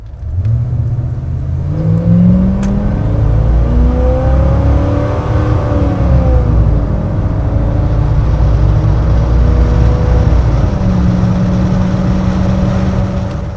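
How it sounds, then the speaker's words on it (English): Original 1987 Chevrolet C10 Silverado pickup with a throttle-body-injected 350 V8 and automatic transmission on a test drive, engine revving up and easing back through shifts with a steady road hum, heard from inside the cab. "It is a joy to drive this pickup."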